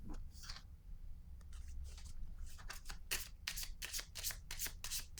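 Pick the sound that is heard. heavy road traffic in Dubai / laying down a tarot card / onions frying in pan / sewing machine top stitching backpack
laying down a tarot card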